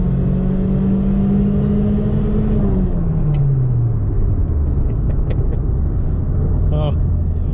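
A 1992 Toyota Paseo engine revs hard at a parking garage car meet, holding a steady high drone before the pitch drops as the revs fall away, loud and close; a voice speaks briefly.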